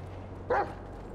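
A dog in the video game GTA V lets out a single short, loud bark over a low steady background hum, with no talking.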